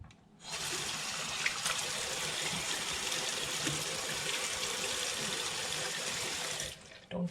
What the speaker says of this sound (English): So let me begin washing my hands.